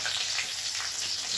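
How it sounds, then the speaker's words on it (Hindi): Cumin, green chili, cinnamon, bay leaf, garlic and ginger frying in oil for chicken curry, a short burst of loud, steady hissing sizzle with no speech. "फिर इसको थोड़ा सा हम फ्राई करेंगे, लगभग 1 मिनट फ्राई करेंगे"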